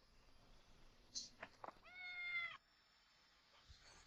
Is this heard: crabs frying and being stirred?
no